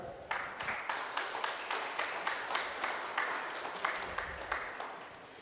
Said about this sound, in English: One big applause for her.